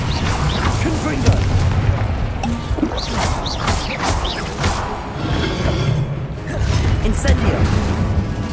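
Repeated Confringo blast spells burst one after another in Hogwarts Legacy, giving punchy, loud booms and crashes with whooshes between them, while a voice talks over the fighting.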